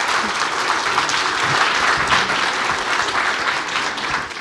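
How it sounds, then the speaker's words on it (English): An audience at an energy and transportation electrification conference applauds its panelists with sustained, full clapping that holds steady and begins to thin toward the end. "Please join me in giving them a round of applause."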